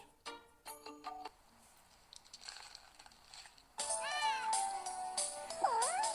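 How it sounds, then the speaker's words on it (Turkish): A small, healthy kitten at a pet shop check-up meows quietly, a few soft, high, wavering calls coming closer together near the end after some faint earlier chirps. "Çok sağlıklı bir kedicik."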